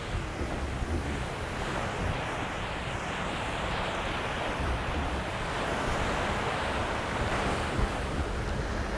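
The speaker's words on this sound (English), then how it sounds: "It's a much wider beach along here." Surf on a wide sandy beach at Dongtan Beach, Jomtien, Pattaya, washing in as a steady, loud roar with wind buffeting the microphone throughout and no voices.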